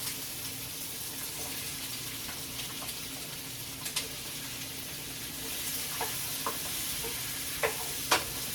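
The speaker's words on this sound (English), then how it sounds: "I am going to put them into the pan" Green, orange and red peppers with onions hiss in a hot pan for a steady, close sizzle, broken by a few sharp clicks and taps near the end.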